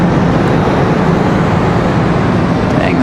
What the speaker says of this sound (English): Dang, that's a loud bus.